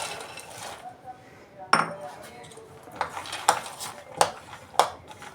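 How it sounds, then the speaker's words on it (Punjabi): Peanuts tipped into a bowl of pakora batter, followed by clinks of a utensil against the bowl and a few sharp taps, close and moderately loud. "ਹੁਣ ਇਹ ਵਾਲੀ ਮੂਫਲੀ ਇਹਦੇ ਵਿੱਚ ਪਾ ਦਾਂਗੇ"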